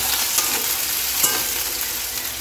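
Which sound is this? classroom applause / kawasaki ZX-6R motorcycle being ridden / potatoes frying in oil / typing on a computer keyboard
potatoes frying in oil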